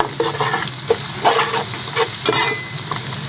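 A garlic-ginger paste sizzles and spatters in a hot pan while a spoon scrapes and stirs it in irregular strokes. Close and fairly loud, with no talking.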